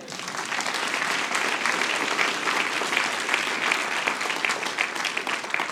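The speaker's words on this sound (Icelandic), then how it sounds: "Og eigum við ekki bara að klappa fyrir því?" Sustained audience applause at a university graduation ceremony, a dense, continuous roar of many hands clapping at steady loudness for several seconds.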